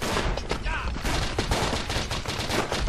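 Rapid rifle and machine-gun fire rattles without pause across a First World War battlefield in the Verdun game, dense overlapping shots near and far forming a loud continuous barrage.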